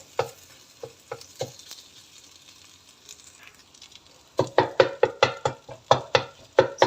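Bread pieces with egg mixture being stir-fried in a pan for roti goreng: a few sparse scrapes over faint sizzle, then a fast run of sharp, regular spatula clacks and scrapes near the end, no talk.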